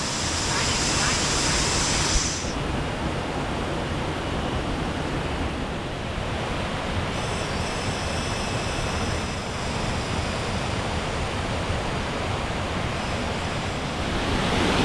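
Steady, loud broadband rush of water from Doi Thu Le waterfall in Thailand, close by and filling the whole clip with no pauses.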